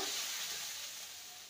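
Spice paste for a vegetarian raw banana curry sautés in a pan with a soft, steady sizzle and hiss that fades slightly toward the end, quiet and close, no voices.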